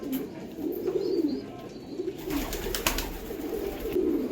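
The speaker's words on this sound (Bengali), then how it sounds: "দেখুন পায়রা" Chotiyal Pulsar pigeons cooing at close range, a steady run of soft, low, rhythmic coos repeating every second or so against faint background noise.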